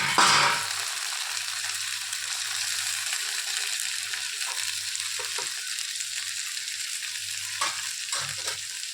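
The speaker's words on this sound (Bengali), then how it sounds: "এর উপরে না এই যে ভেজে রাখা মাছগুলো আস্তে করে দিয়ে দেবো" Fried bele fish slid into mustard paste in a hot pan for a Basirhat-style mustard curry, giving a steady, close sizzle and bubbling that runs throughout, with light stirring scrapes and occasional spatula knocks.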